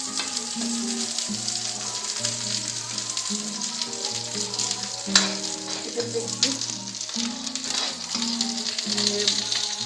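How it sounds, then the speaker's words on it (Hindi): Masala and onions sauté in a kadai for Dhaba-style kadai paneer, a steady close sizzle and crackle of frying with the scrape of a spoon stirring through it; a melodic background tune plays underneath. "मसाला भून रहा है। इतनी देर में प्याज को मैं सोटे कर लेती हूँ।"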